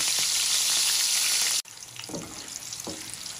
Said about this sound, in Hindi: अब हमने हरी मिर्च को इसमें फ्राई करना है।